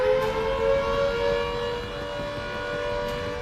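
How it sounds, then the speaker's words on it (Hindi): A steady wailing air raid siren drones continuously, loud and sustained with a slowly wavering pitch, no voices over it. "धमाके की आवाज के बाद से यहां लगातार सायरन बजते रहे।"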